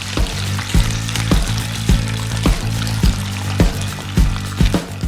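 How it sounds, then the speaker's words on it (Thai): Gluten dough fries in oil to brown, the oil sizzling and crackling steadily, with a regular rhythm of sharp utensil taps against the pan. "ผมจะใส่ตรงนี้ทอดให้เขาเหลืองหอมซะหน่อยครับ"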